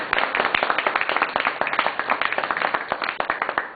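An audience at an evening address on the labour movement gives a round of applause: dense, steady clapping from many hands, held at an even level throughout with no break.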